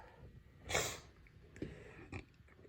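A person with a cold sniffles a few times, one strong snort followed by shorter wet sniffs, close and fairly quiet.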